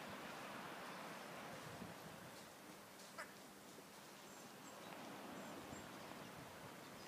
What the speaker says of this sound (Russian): Шумит море.